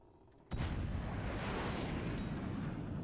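Cannon fire from a siege game of fortress battles lands with one sudden loud blast after a short quiet moment, followed by a sustained rumbling roar of explosion and debris that fills the rest of the moment without talk.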